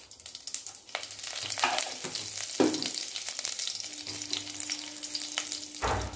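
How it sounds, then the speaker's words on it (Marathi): Cumin, mustard seeds and curry leaves drop into hot oil and sizzle loudly up close, with bursts of crackling and popping and a few stirring scrapes in the pan. "तेल गरम झालेलं आहे, त्याच्यामध्ये जिरे आणि मोहरी टाकूया."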